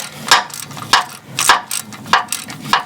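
A nut being tightened onto the sense wire connector of a starter motor on a GM Vortec 5.7L truck or van, heard as a run of close, rhythmic ratcheting clicks in quick bursts.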